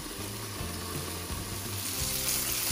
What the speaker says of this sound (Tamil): இப்போ வந்து வெண்டிக்காய் வந்து நல்லா வதங்கிட்டுது